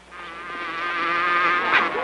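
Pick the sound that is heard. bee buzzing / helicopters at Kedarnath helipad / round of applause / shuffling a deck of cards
bee buzzing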